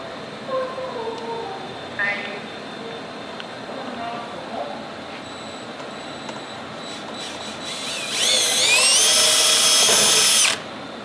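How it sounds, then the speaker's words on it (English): A power drill whirs steadily for a couple of seconds, loud and close, drilling holes into a car body, after a stretch of quieter background noise with brief clicks. "I drill holes in cars."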